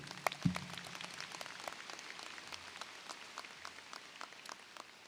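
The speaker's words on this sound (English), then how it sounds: "Please give them a round of applause and thank you for being here." Faint, distant applause from a crowd at a high school commencement ceremony, a soft continuous patter of many hands clapping, fairly quiet throughout.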